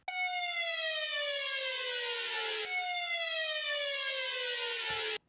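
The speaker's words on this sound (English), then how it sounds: "I took this siren sound" A synthetic siren tone with a steady descending sweep, repeated twice, loud and continuous with no other sounds.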